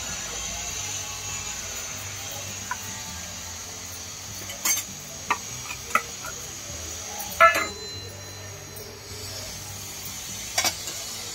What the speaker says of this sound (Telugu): ఒక్కసారి బాగా కలిపేసేసుకోండి మొత్తము.